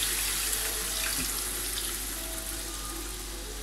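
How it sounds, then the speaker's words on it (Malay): Water is poured into a pot of chili being cooked for sambal sotong, a steady close rushing splash with a faint sizzle underneath, continuous and fairly quiet, with no talking. "Kita tambahkan air."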